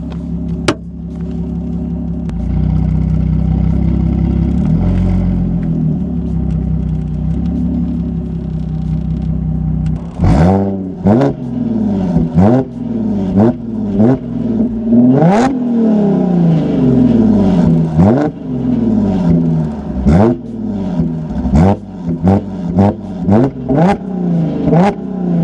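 A 400-horsepower Audi S4 idles with a deep steady rumble, then is revved repeatedly in sharp bursts, each rising and falling quickly, loud and close.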